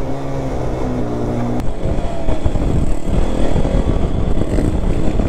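A freshly serviced motorcycle engine drones steadily while being ridden, a brief idle tone giving way to a loud, continuous rumbling roar with wind rush and no talk.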